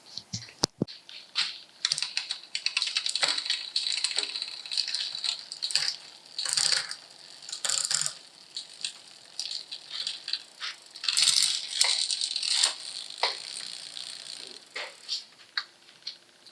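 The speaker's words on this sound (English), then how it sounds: "So now I can just go through the gears and confirm that's the right length chain." A bicycle chain clicking and rattling as a Wilier flat bar bike is run through its gears, close and dry, with sharp irregular ticks and short metallic bursts and no talking.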